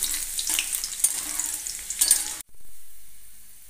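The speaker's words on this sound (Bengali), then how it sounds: "রসুনটাকে একটু হালকা করে ভেজে নিচ্ছি" Ten cloves of chopped garlic fry lightly in hot oil with whole dried red chillies, a busy crackling sizzle with a few stirring scrapes, cutting off abruptly partway through.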